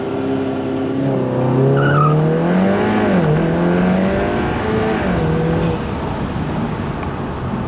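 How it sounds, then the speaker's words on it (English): An Audi TT MK3 launches hard from a standstill to 60 mph, its engine rising loudly in pitch through the gears with brief dips at each shift and a little tire squeal, heard steadily from inside the cabin. "Let's try some 0 to 60s"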